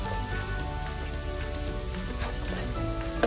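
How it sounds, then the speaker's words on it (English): Chopped onions sauté in a pan for Chettinad pepper chicken masala, giving a steady, close sizzle and crackle with occasional small pops, no voices. "We're going to saute that down nicely."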